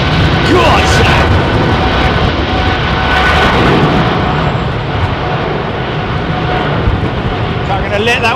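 An airliner rolling out after landing at windy London Heathrow, a loud broad roar of engines and rushing wind that stays heavy and steady, with a person talking over it at times.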